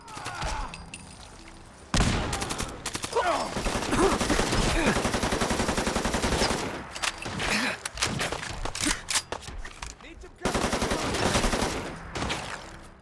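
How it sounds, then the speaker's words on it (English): Rapid bursts of bullpup rifle fire in modded Fallout 4 crackle loudly in repeated volleys, with short pauses between strings of shots and busy action sounds around them. "The sound effects are fantastic, and the weapon feels heavy while shooting and running"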